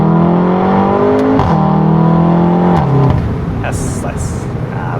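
VW Golf 7.5 R exhaust under acceleration, loud and close, with rising engine pitch through two quick upshifts, then a lower rumble as it settles; brief talk comes in near the end.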